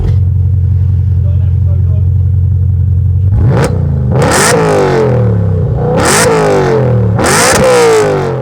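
A V10 engine in a BMW M5 idles with a deep steady burble, then is blipped through four sharp revs that climb and fall back, loud and close.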